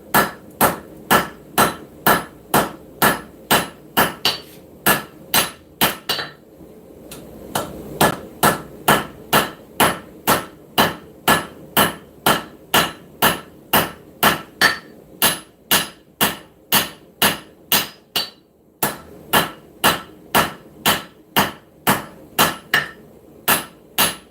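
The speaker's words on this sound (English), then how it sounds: "Looking for the old hammer. Draw this tang out." Steady, evenly spaced hammer blows ring out on hot steel as a blade tang is forged and drawn out, dozens in a row with a couple of brief pauses, loud and close.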